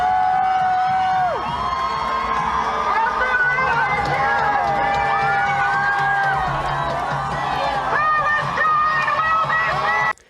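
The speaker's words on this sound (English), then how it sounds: "So they're just cheering and it's peaceful here." A protest crowd cheers and shouts in a loud, sustained wash of voices and whoops, with hubbub and scattered yells carrying on close by throughout.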